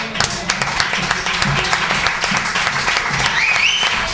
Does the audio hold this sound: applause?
yes